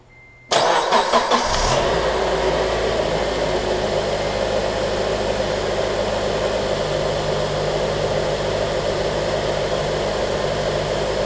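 A Honda Element engine cranks briefly and catches after a spark plug replacement, then settles into a steady, even idle hum heard close by, with no talking.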